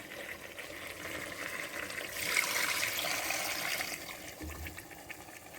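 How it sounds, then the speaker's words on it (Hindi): Beef trotter broth pours steadily into a pot for a couple of seconds, a soft splashing rush rising and fading over a quiet kitchen background. "इसी की यखनी जो हमने निकाली थी वो हम इसके अंदर वापस डाल रहे हैं।"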